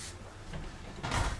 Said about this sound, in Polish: muszę drzwi zaraz zamknąć, bo klienta słychać